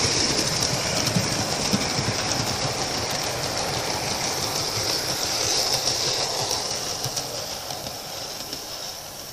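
A model steam locomotive, Tornado, rumbles steadily along the track of a model railway layout, a continuous mechanical clatter and hiss with no voices, holding roughly level throughout.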